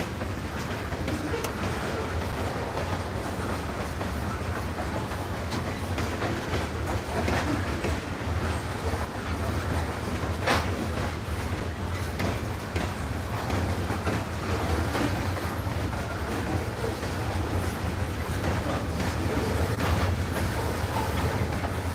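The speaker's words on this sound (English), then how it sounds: "we have a CSX going to be going past here" A CSX freight train heading westbound toward Chattanooga rumbles past in a steady, moderately loud wash of wheel and rail noise, with some wind buffeting the microphone.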